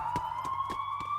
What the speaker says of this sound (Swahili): Nje nilisikia king'ora cha polisi kikikaribia kwa kasi.